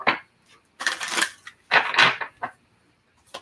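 A deck of cards being shuffled for a personal card reading, several quick crisp riffling bursts close by with short pauses between, no talking.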